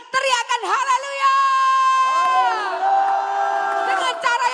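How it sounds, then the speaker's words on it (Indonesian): A church congregation shouts hallelujah together in a loud, sustained collective cry lasting several seconds, with rising and falling voices and scattered cheers layered over the crowd. "Mari kita teriakan haleluya."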